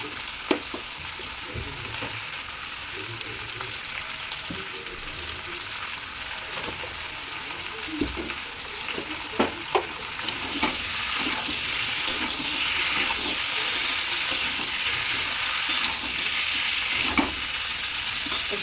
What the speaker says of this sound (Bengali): আর এই কলমি শাকটা ভাজা বসিয়ে দেবো।